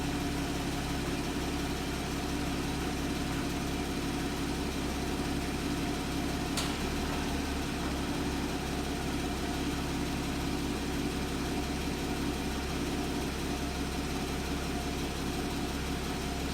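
A Porsche engine idles steadily during testing of a ZF PDK prototype gearbox, giving a continuous low rumble throughout, with one brief sharp tick partway through.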